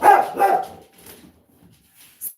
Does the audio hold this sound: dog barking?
yes